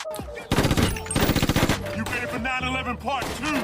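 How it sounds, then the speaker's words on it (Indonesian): Rapid bursts of automatic gunfire rattle in quick succession over a tense music score in a film shootout between police and criminals, loud and close, with scattered extra shots and effects. "Terjadilah aksi tembak-tembakan antara polisi, Roman, dan Pedro."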